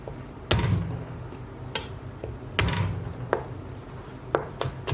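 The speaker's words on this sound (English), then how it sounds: "Now all we want to do with these is just smash them like that." Three garlic cloves smashed on a cutting board with a knife, giving a series of sharp, close knocks at irregular intervals, some loud and some lighter, over a quiet room background.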